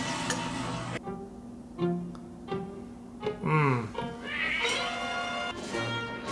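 Cats meow in an animated film scene, several distinct drawn-out cries rising and falling between brief pauses, mixed with other soundtrack elements.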